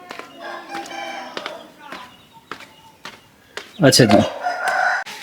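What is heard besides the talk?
rooster crowing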